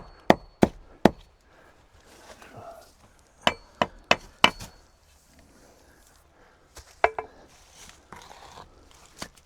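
A stake is driven into the ground outdoors with heavy blows: sharp, close knocks arrive in irregular clusters of two or three, separated by quieter stretches of faint background shuffling.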